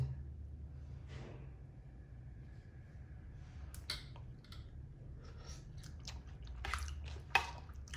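Someone chews a mouthful of rujak gobet, shredded fruit salad, close up and quiet, with soft wet crunches and clicks growing more frequent over a faint background hum.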